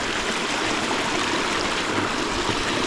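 A small Dartmoor stream rushes and splashes steadily close by, a dense, even broadband wash of moving water with no pauses and no voices.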